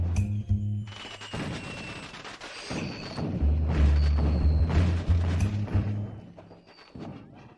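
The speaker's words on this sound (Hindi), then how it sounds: "आतिशबाजी का समय।" Fireworks burst in a series of loud booms and crackles, some close and heavy, others scattered, with sizzling trails between the blasts.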